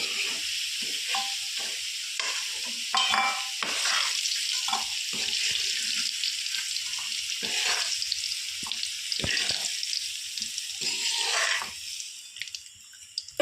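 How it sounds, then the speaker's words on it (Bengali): Potatoes fry in hot oil, a bright continuous sizzle broken by soft knocks and scrapes as pieces are lifted out, moderately close with no speech. "আমার লাল লাল করে আলুগুলো ভেজে নিয়েছি এবার এক এক করে আমি আলুগুলো তুলে নেব"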